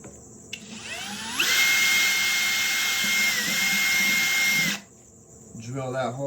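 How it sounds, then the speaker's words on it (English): A power drill whirs up to a high, steady whine for a few seconds, then stops abruptly, followed by a brief voice. "drill that hole right there"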